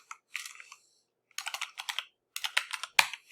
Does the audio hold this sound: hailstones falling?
no